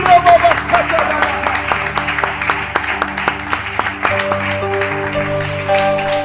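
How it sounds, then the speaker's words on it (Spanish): A church congregation applauds during a sermon, steady clapping mixed with sustained music tones and some voices underneath. "Alguien que aplauda esa presencia de Dios."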